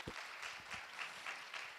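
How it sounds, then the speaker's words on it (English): Audience applauding panelists at a security forum, a steady wash of clapping from a seated crowd, moderately faint and continuous for a couple of seconds with no talk. "round of applause for the panelists."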